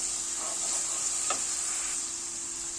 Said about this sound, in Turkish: Yarım yemek kaşığı da domates salçası ilave ettim. Onu da kavuruyorum.